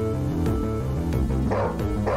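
Dogs in a video game bark and yip in quick, repeated bursts, several yaps close together over a steady game soundtrack, loud and near.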